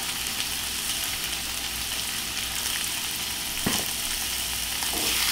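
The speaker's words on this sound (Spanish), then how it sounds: "Y vamos a sofreír un poco." Bell pepper seasoned with coarse salt and black pepper sautés in a pan, giving a soft, steady sizzle throughout, with one brief scrape of a utensil near the end.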